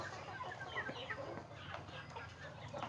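Four-month-old farm chickens cluck and chirp in scattered short calls against a steady low background hum, fairly faint and continuous throughout.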